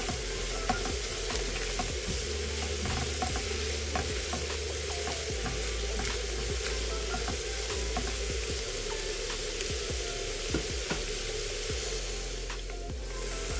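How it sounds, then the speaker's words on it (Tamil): Onions sautéing in a pan for a manathakkali vathal kuzhambu, a dense steady sizzle with repeated scrapes and stirring strokes of a spatula, close and fairly loud throughout. "வெங்காயம் நல்லா வதங்கி வந்தாச்சு."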